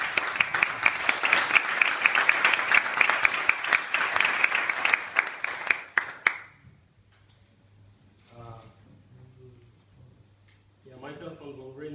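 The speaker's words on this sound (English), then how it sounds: "it is worth a round of applause." An audience claps for about six seconds, dense and steady, then it stops abruptly and a few voices speak quietly afterward.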